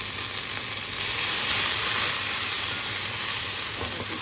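Onion and garlic cloves frying together in a pan give a loud, continuous sizzle and hiss, close up and steady, swelling slightly midway, with no talking.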